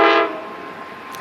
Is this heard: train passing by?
yes